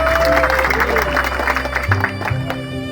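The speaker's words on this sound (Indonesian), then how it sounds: "Tepuk tangannya sih semangat boleh ya." An audience claps at a rice harvest event in Karang Wungu, Klaten. The applause is a fairly loud, sustained patter that runs under a speaking voice and background music.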